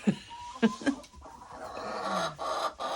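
A broody Buff Orpington hen gives several sharp, agitated clucks close by, with some rustling and a low murmuring grumble running through the quieter stretch afterward.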